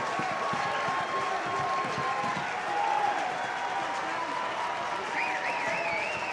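Stadium crowd at a college baseball game, Arkansas against South Carolina, applauding and cheering for the pitcher: a steady, dense roar of clapping and voices that holds throughout, with a faint whistle-like tone rising near the end.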